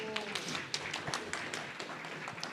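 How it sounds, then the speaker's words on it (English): Workshop audience at Devcon VI in Bogotá applauding a speaker, a steady patter of overlapping handclaps with some louder individual claps and a brief voice at the start. "So if you can applaud him again."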